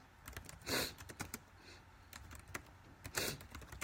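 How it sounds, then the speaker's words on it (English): Rapid, uneven clicking of keys on a computer keyboard, close by, with a few louder thumps like the space bar being hit, no talking. "I'm just typing it now, so give me 1 second."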